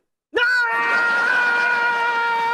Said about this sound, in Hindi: आप चीख क्यों रहे हैं?